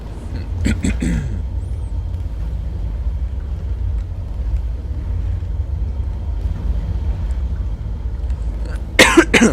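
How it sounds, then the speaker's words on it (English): A person coughs in a few brief bursts near the start and again at the end, over a steady low rumbling background. "Coughing."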